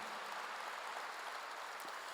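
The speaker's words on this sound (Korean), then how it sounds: "박수로 하나 둘 셋" A church congregation claps together during a sermon, the applause a continuous, even wash of many hands at moderate volume with no voice over it.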